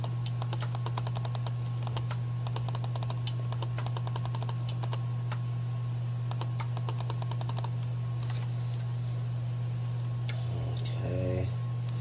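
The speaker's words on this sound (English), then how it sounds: "I'm sure you're hearing a ton of clicking" Computer keyboard keys and mouse buttons click in quick bursts of rapid, close taps over a steady electrical hum, pausing partway before a few scattered clicks return.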